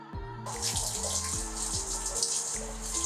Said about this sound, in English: I am going to end up washing my hair one more time.